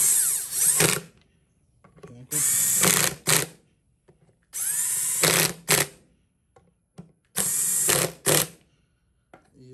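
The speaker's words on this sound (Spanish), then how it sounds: "Ahora lo van a atornillar. Y lo apretan." A power tool drives a part in during a Honda Accord power steering repair: four loud, close whirring bursts of a couple of seconds each, separated by quiet pauses.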